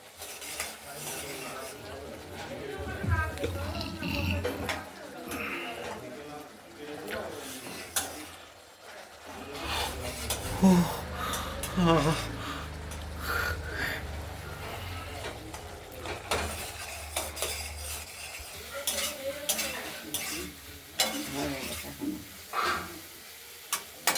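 Spice paste for an aar fish curry with potato, tomato and coriander is stir-fried in a pan, making steady scraping and clinking of the spatula against metal over a low sizzle, with brief pauses throughout.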